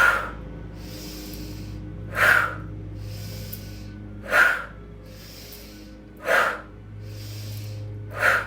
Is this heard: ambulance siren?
no